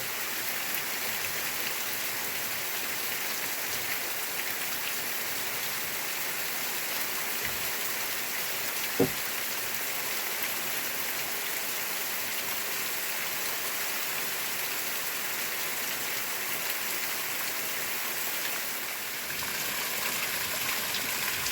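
Steady rain falls across the whole stretch, a dense, even hiss with one brief knock near the middle and no voices.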